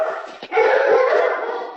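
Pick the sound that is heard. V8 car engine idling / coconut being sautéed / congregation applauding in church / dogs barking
dogs barking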